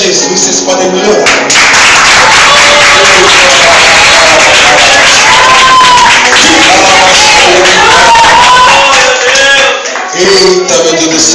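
A church congregation bursts into loud, continuous applause and crowd noise over ongoing worship music, rising in energy before briefly dipping near the end.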